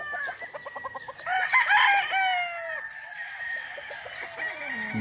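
Hens cluck in quick rhythmic bursts on a farm, then a rooster crows loudly nearby, followed by more scattered clucking and bird calls.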